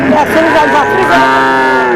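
An Australian cross cow at a village cattle market in Manikganj, Bangladesh, lets out one long, loud moo, close up and lasting the whole moment.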